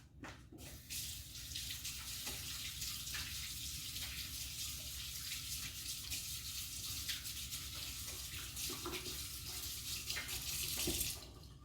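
Running tap water splashing steadily into a sink as hands are washed in a home kitchen during baking, a continuous hiss with small shifts in splashing before it cuts off.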